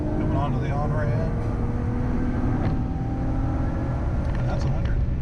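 An Infiniti Q60 Red Sport 400 accelerates onto a highway on-ramp, its engine note rising steadily and droning loud from inside the cabin.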